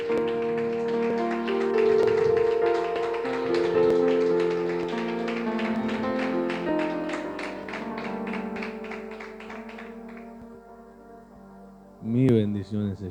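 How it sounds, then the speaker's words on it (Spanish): A church congregation claps during a Spanish-language worship service, starting as a quick, steady run of sharp claps over sung music and voices, thinning out, then a brief final burst near the end. "Da un aplauso al Señor fuerte."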